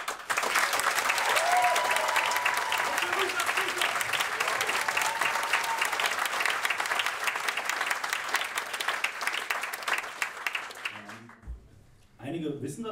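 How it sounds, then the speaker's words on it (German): Loud, sustained applause from a poetry slam crowd, dense continuous clapping with some cheering that holds for about ten seconds before dropping off abruptly, followed by a voice speaking. "ich bitte euch um einen unglaublich lauten Applaus für die 2 Personen, die wir leider nicht mehr sehen werden"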